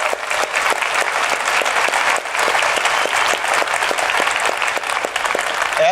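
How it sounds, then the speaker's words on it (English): Steady audience applause in a large conference hall at the DEF CON 20 hacker convention, dense, even clapping from many hands lasting the full stretch at moderate volume. "Let's give them a big round of applause."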